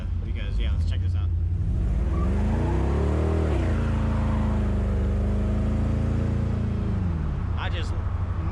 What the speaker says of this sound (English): I just melted those tires up just now